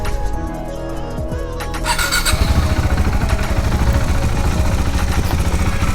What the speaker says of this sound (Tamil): ஸ்டார்ட் பண்ணி வண்டியை வந்து ஐட்லிங்கில் வந்து விடணும்.